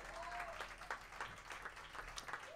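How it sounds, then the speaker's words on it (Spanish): A small audience at a jazz club concert applauds, faint, loose clapping with a few distinct claps, heard from a distance with low hum underneath and a voice briefly audible. "Dale un aplauso, por favor, dale un aplauso"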